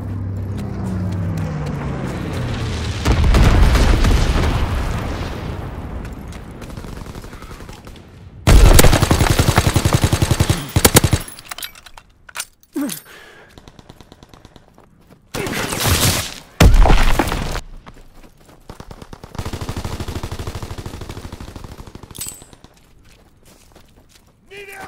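Firebombing run in a WW2 video game, with low-altitude incendiary explosions and gunfire coming in loud roaring bursts and rumbling waves, broken by quieter gaps, loud and close.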